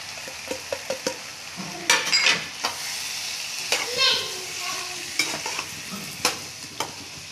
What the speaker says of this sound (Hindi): अब इसमें ऐड करेंगे ये क्रश किया हुआ पनीर जो मैंने 200 ग्राम लिया है